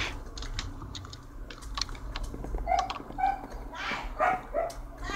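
A dog makes several short barks and whimpering yelps, moderately close, scattered over steady keyboard typing and low background hum.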